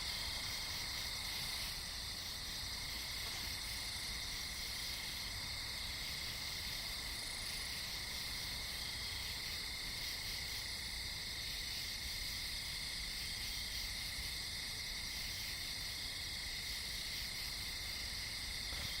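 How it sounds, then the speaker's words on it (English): Dense chorus of crickets and other night insects chirping steadily, with several high, continuous trilling bands running unbroken outdoors beside a pool, fairly close and even in level, no voices. "all the different insect sounds you hear right now"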